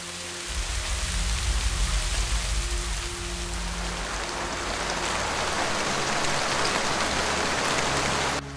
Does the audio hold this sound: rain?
yes